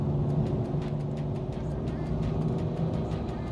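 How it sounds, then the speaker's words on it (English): A BMW 4 Series six-cylinder climbs a steep road with a low, steady engine drone heard from inside the car, fairly faint and constant through the short stretch. "I don't know if you can hear that 6-cylinder."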